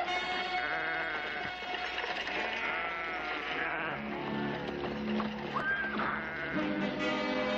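A flock of sheep bleats continuously, many overlapping calls close by, forming a dense, noisy chorus.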